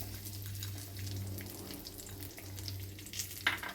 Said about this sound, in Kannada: ಇದೆಲ್ಲ ಚೆನ್ನಾಗಿ ಸ್ವಲ್ಪ ಗರಿ ಗರಿ ಆಗೋ ಥರ ಫ್ರೈ ಮಾಡ್ಕೊಳ್ಳೋಣ